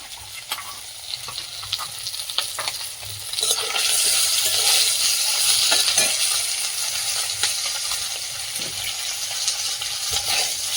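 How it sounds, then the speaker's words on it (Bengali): Parshe fish fry in hot oil in a wok, a constant close sizzle and crackle that swells louder midway, with occasional sharp pops and light clinks. "মাছটা বেশ লাল লাল করে ভাজা হয়ে গেছে"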